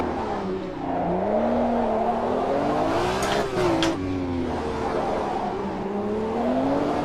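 A BMW M1 Procar engine rises and falls through the gears on the streets of Monaco in the racing game AMS2. The note is loud and close, with a brief tyre squeal midway and a voice talking faintly underneath.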